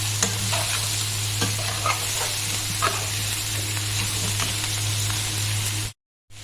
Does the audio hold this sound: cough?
no